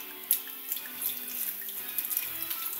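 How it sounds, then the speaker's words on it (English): Champagne punch is poured into a punch bowl, a steady splashing liquid stream with small bubbly gurgles, close and alone. "Pour some of this"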